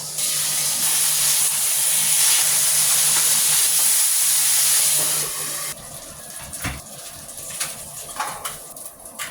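Fish fries in a pan with a loud, dense sizzle and hiss for about six seconds, then drops to a quieter crackle with scattered pops and spits.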